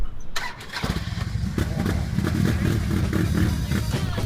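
A motorcycle engine starts outdoors on a family summer outing, catching after a brief crank and settling into a steady, loud running rumble, close by, with some background voices.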